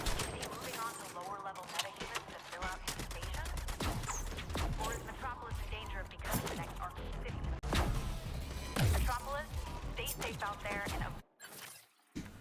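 Rapid gunfire and impacts from a Suicide Squad video game, dense bursts of shots with crashing, shattering effects, heard close and loud under an ongoing voice talking.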